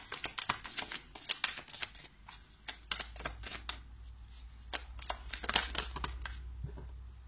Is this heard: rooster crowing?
no